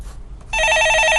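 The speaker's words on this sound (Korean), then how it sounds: "예, 전화 받아보겠습니다." An electronic telephone rings in a studio during a live call-in stock market program, a loud rapid trilling ring that starts abruptly and continues steadily after a brief low murmur.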